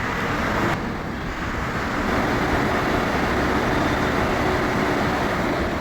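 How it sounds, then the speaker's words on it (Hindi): Steady, loud road-vehicle rumble and traffic noise fills the whole stretch, a dense continuous roar with no pauses and no voices. "बार ये गाड़ी आवाज़ कर रहा है"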